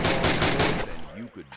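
Rapid automatic gunfire from a Call of Duty training range, a dense burst of repeated shots lasting about a second, then a voice giving orders as the firing stops.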